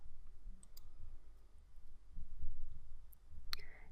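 A computer mouse clicks once, sharp and brief near the end, over quiet low room hum while selecting a list-of-values button in business software.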